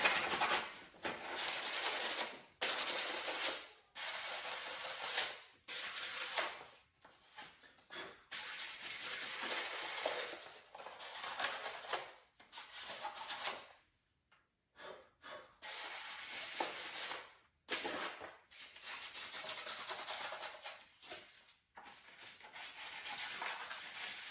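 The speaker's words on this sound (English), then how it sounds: "just sand the bottom of this." Sandpaper rubbing along the bottom edge of a cut Arlen Ness OG retro motorcycle fairing, long steady scraping strokes repeated in close bursts with brief pauses between.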